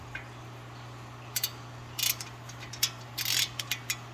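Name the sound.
removing brake dust shield torque bit screws with a ratchet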